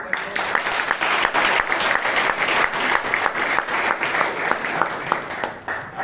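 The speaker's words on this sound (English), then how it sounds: "can we have a huge round of applause for Dr. Manwani?" Applause from an audience at a Bangalore Toastmasters meeting welcoming a guest, a dense sustained patter of many hands clapping with scattered sharper claps, steady and fairly loud throughout.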